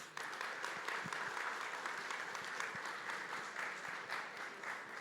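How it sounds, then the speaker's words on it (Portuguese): An audience at an eSports panel event applauds continuously. The clapping is dense and even, fairly faint and slightly distant, with no speech over it. "Salva de palmas."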